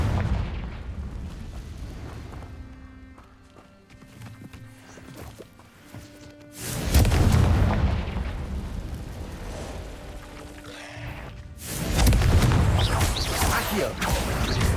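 Confringo fire spell blasts in Hogwarts Legacy during a fight with a giant spider, two loud booming bursts with rumbling tails rising out of quieter game sounds, with a voice calling out between them.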